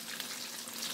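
Chicken soup boiling in a pot at home, a steady close bubbling hiss with faint low popping throughout, no talk.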